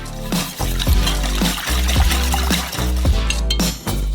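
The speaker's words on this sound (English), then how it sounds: "Then we're gonna pour it into a saucepan." Watermelon juice pours into a saucepan in a loud, continuous splashing stream. Low thuds and glassy clinks recur throughout.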